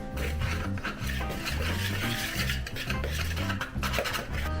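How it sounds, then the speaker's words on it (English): A whisk scrapes and clinks around a bowl of dry cookie ingredients for Cheeto cookies in a rhythmic, repeated stirring pattern, close and steady, with no voices. "I'm just going to whisk all this together, and then we'll prep the wet stuff."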